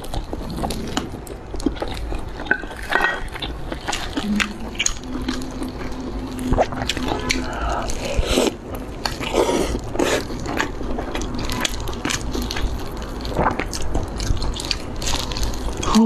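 Close-up mukbang eating of tender stewed steak falling off the bone, with repeated wet bites, chewing and soft squishy smacks in a busy, irregular rhythm and no speech.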